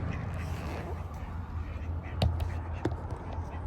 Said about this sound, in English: Oh, duckies. The ducks came for a debate.